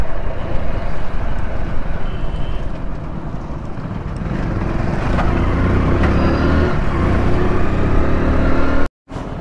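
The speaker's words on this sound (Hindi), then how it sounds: "इतने ट्रैक्टर ट्रॉली रोल रहे हैं यार यहाँ पे" Tractors hauling trolleys roll along a road close by, a loud, continuous engine rumble and roadway roar that builds gradually, then cuts off sharply near the end before returning.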